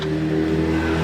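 A car engine drones loudly nearby with a steady low tone and slight rising pitch, as if a vehicle is driving past close by.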